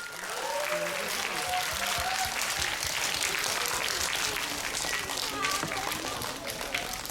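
A school audience at a World Health Day event applauds loudly and without a break, and voices talk and call out over the continuous clapping.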